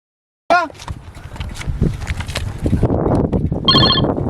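A phone rings with a short electronic trill near the start, followed by a busy mix of clattering and background voices, with a brief tonal chime near the end.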